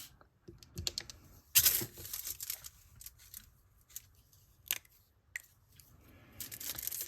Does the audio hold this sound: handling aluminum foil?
yes